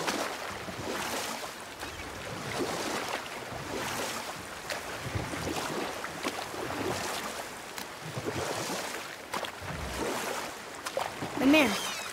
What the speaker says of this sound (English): Keep rowing towards the statues of the oarsmen